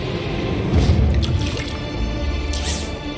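Water tank being refilled in Beyond a Steel Sky, a steady close liquid trickle and dripping running under a low machine hum for a few seconds.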